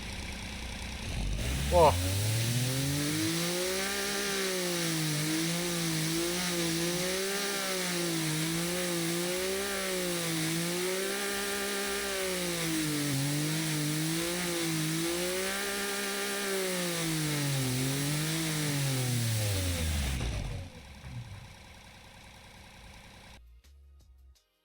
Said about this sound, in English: It's like a tiny turbo for this tiny 3-cylinder. Let's fire it up, gentlemen.